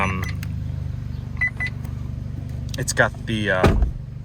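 An Audi S3 engine starts and settles into a low, steady idle that hums throughout, with a door thunk and a brief electronic chime near the end; voices are faint at moments.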